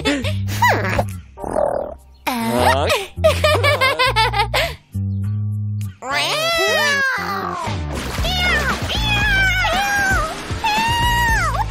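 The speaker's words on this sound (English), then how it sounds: "Cat." A run of high, warbling meow-like cries rises and falls in pitch across the stretch, loud and close, some with a giggling quality, broken by short pauses.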